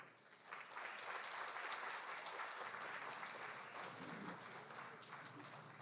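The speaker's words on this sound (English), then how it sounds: "Give her another round of applause." Audience applause at a Tassa and East Indian music and dance finals show, a dense sustained round of clapping from a crowd that swells in and carries on steadily throughout.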